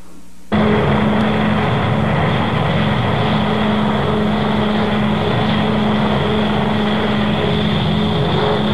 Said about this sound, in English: They have spotted an enemy aircraft, one B-29, heading west.